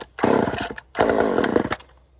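A cheap chainsaw with the choke on and full throttle is pulled into life twice: two short, loud snarling bursts of engine noise separated by a brief pause, then it cuts out.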